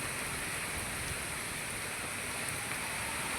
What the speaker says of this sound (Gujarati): થોડોક ઓછો થયો હો વરસાદ